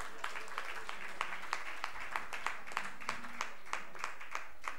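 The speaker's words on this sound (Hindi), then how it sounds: "और एक बार जोरदार तालियां उनके लिए।" At a Jain religious program in Mayur Vihar, Delhi, a sparse audience claps in a slow, regular rhythm, distinct individual claps ringing out at an even pace against a quiet hall background.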